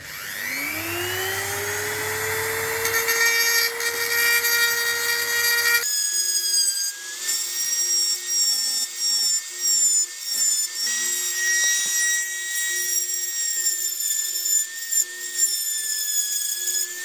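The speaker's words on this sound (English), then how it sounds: "Another handy tool is the Dremel." A Dremel rotary tool used for modifying a wristblade or hidden blade whines as it spins up, its pitch rising, then settles into a steady high grinding tone with uneven, pulsing contact against the metal piece. The sound is close and loud, with no talking.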